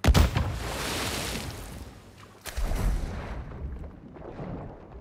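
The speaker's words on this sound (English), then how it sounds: "Throwing flash grenade." A flash grenade goes off in Call of Duty Modern Warfare II, a loud burst at the start with a dense roar that fades, followed by a second heavy blast around the midpoint that slowly dies away.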